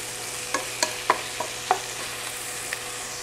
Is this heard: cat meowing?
no